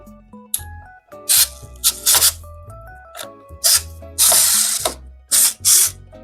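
An electric screwdriver whirs in short bursts while mounting an Arctic Freezer III Pro 240 CPU cooler, with pitched motor whines, ratcheting clicks and handling noises in between, no talking.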